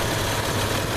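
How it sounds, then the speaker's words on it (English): A 1997 Isuzu Rodeo engine idles loudly and close, a dense steady rumble with an engine-driven fan, holding an even drone without revs for about a second. "this is quite an engine. It sounds good, runs good."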